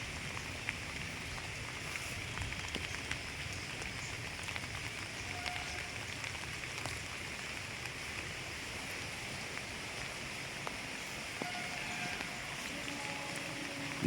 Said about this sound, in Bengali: বৃষ্টি এখনও ভালোই হচ্ছে